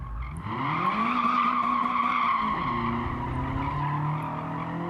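In Gran Turismo 7, a car's tyres spin and skid, the engine holding high revs under a continuous tyre squeal, loud and steady for several seconds with a slight pitch drop midway.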